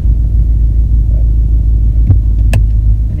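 A Mazdaspeed 3 idles with a steady, heavy low rumble and vibration during a motor mount install, close and loud throughout, with a couple of brief faint clicks.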